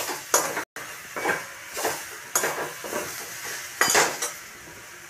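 A metal lid is lifted off a cooking pot of lentils with kalmi greens, bringing a string of sharp, close clinks and scrapes over a light, steady hiss.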